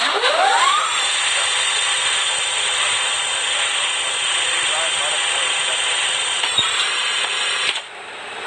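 Steady, loud jet engine roar from an Emirates Airbus A380 on takeoff, a broad sustained rush that holds nearly level throughout before dropping slightly at the end, with faint radio-style chatter beneath.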